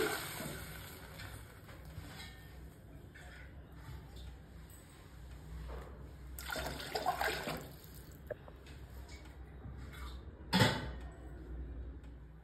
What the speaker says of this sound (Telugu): నేనైతే ఈ గ్లాస్తో ఇప్పుడు 2 గ్లాసులు వాటర్ వేస్తున్నా